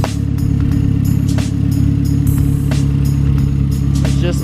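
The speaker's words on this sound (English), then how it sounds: "You can totally hear the fucking turbo though, for sure" A Mazdaspeed 3 engine running with a newly fitted BNR S4 big turbo, a loud steady close drone with a constant hum and faint ticking over several seconds.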